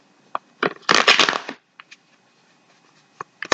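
A close, crisp burst of oracle cards being riffled and shuffled, followed by scattered light taps and flicks of handling.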